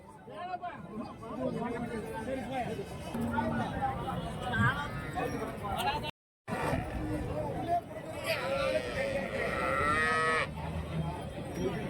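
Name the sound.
cows mooing at a cattle market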